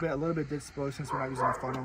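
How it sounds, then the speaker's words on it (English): A dog yips and barks in the background in short rhythmic bursts while someone talks over it during an oil change on a wide-body Dodge Charger. "excuse the dog in the background"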